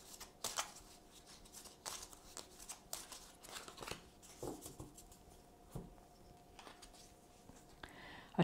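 Tarot cards are shuffled by hand in quiet, soft papery riffles and taps, coming in short irregular bursts close by with no talking.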